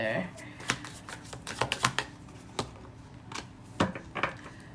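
A tarot deck is shuffled by hand in quick, uneven riffles and card flicks, crisp and close, while a voice talks softly underneath.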